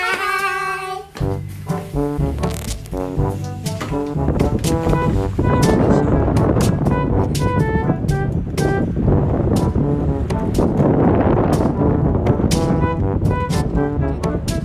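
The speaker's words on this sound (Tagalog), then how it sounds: "At dito na nga ay ang lakas ng hangin" Strong wind roars and buffets the microphone, growing louder and steadier after the first few seconds, with tonal sounds faintly beneath.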